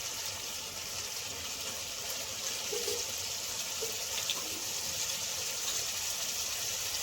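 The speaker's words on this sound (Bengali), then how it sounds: "এবার আমি বাটি ধরে জল দিয়ে দেবো।" Water poured from a bowl into a cooking pan of Kashmiri-style rohu fish, a steady, continuous splashing gush lasting several seconds with no talking.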